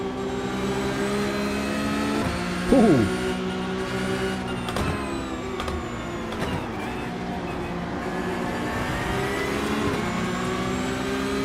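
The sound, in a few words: car engine revving in a racing video game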